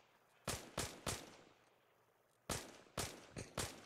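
Gunfire in the video game Arma Reforger: sharp single shots in a loose rhythm, a group of three, a pause, then four more, fairly close and crisp, with no talk over them.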